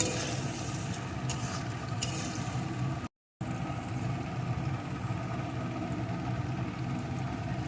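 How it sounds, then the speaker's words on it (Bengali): Small shrimp stirred into shredded cabbage in a pan give a steady, close frying sizzle with stirring scrapes, briefly cut by a short gap of silence before the hiss resumes. "এর ভিতরে আমি চিংড়ি মাছগুলোকে দিয়ে দেবো"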